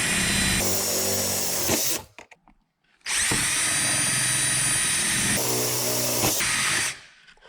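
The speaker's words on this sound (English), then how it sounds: "I'm gonna start by drilling a 5/32 hole straight through" A power drill drilling a 5/32 hole through metal whines loudly in two long bursts, cutting briefly to near silence between them, with a high steady motor tone throughout.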